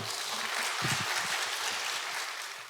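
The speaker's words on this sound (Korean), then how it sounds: "우리 소장님 나오실 때에 큰 박수로 환영하겠습니다." Audience applause welcomes the lecturer at a Christian parenting talk, a steady dense patter lasting about three seconds, with faint voices low underneath.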